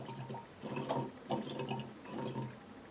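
Soft bubbling as air is blown through a tube into water during Lax Vox voice therapy, three or four quiet gurgling bursts in an uneven rhythm, close and faint.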